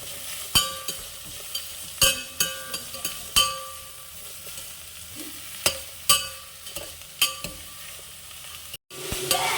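Onions, green chilies and curry leaves frying in a pan for a potato kurma, with a steady sizzle under repeated sharp clinks and scrapes of a spoon stirring against the pan, close and clear.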